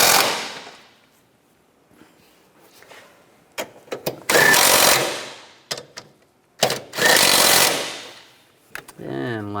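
Bolts on a 2003-2010 BMW X3 engine being run down with a power tool during spark plug replacement, heard as two long, loud bursts of buzzing and rattling separated by clicks and brief pauses.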